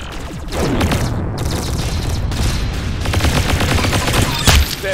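Rapid gunfire in the video game Arsenal, loud and continuous across the whole stretch, with dense bursts of automatic shots and occasional heavier booms.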